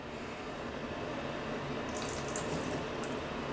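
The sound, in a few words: pouring out C41 developer solution from a bottle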